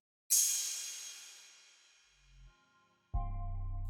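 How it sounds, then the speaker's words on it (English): A crash cymbal sample in a hip-hop beat strikes once with a bright splash, decays over a couple of seconds, then a low synth or bass tone comes in underneath, with no voices. "And I added this crash."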